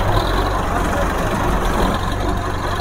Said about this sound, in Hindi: ट्रैक्टर उत्ते स्टार्ट हो गया